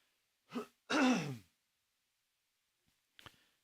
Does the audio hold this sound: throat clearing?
yes